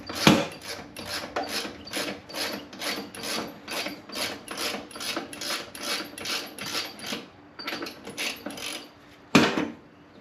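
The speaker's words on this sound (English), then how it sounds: "I'm hoping I can just pop this center bolt off and swap these covers pretty easily" A ratchet tool loosens the center bolt on the shifter cover of a Hammerhead GTS 150 Platinum scooter, giving close, rhythmic clicking strokes in a steady run, a short pause, then a louder final pull.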